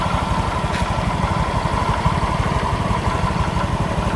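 A Honda Vario F1 scooter engine idles steadily while warming up, a close, even low mechanical thrum with a fast regular pulse and no voices over it.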